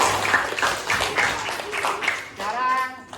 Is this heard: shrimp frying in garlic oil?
no